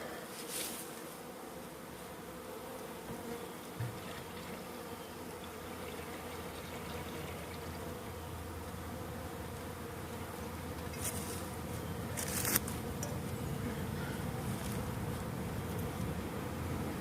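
Packaged honeybees being installed in a hive and fed syrup hum in a continuous, close, low drone for about seventeen seconds, with occasional soft clicks and handling noises but no talking.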